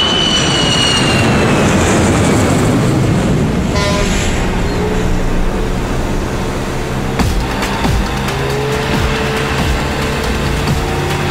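An airplane landing, heard as a loud, steady engine roar with a high whine that slides downward at the start and a deep rumble underneath throughout, with no talking.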